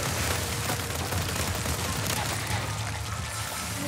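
Rapid gunfire in a Resident Evil video game aimed at an enemy's legs, a dense continuous burst of shots with a noisy crackling texture, loud and close, sustained over several seconds.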